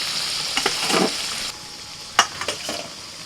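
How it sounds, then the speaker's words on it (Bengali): Potatoes fry in hot mustard oil in a wok for a chicken curry, a steady sizzle with a few sharp crackles and stirring clinks, heard alone at close range without talk. "প্রতিটা আলুর গায়েতে লাল লাল ভাজার দাগ এসে গেছে ঠিক এই সময় তুলে নিতে হবে"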